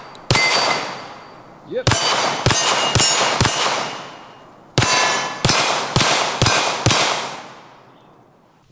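Pistol shots from a Staccato 2011 HD at an outdoor range ring out in two loud strings, one of four rapid shots then one of five, each crack followed by a clanging hit on a small red steel target; one brief spoken word comes between them.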